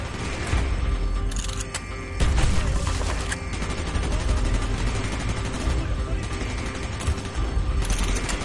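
Dense gunfire in the shooter game Call of Duty: Black Ops, loud sustained bursts and rapid shots with booming impacts rolling over each other throughout, battle noise filling the whole stretch.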